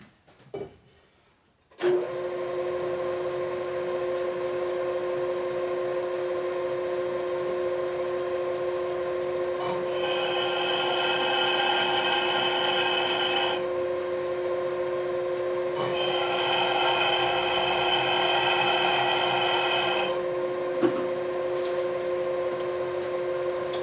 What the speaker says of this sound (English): Okay, I'm going to drill these a little bit deeper.